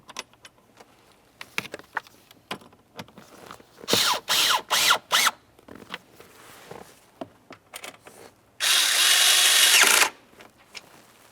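A power drill drives in the lower bolts on a 1999-2003 Toyota Solara during a blower motor replacement, with several short whirring bursts, then a longer steady run, amid clinks and rattles of tools and parts nearby.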